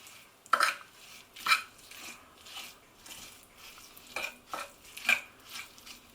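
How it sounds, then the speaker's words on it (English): Spoon scraping and clinking around a mixing bowl as salt, pepper, cumin, ginger and coriander are stirred into olive oil, a series of brisk, close scrapes and taps spaced irregularly, fairly quiet overall. "I'm going to give that a good mix."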